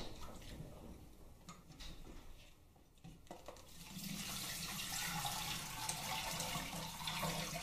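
Hot water drains from cooked noodles, with soft clatters of a strainer and pot followed by a steady, louder rushing splash that keeps going to the end.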